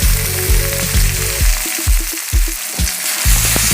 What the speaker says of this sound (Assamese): এতিয়া মই ইয়াত কচুলতিখিনি দি দিছোঁ।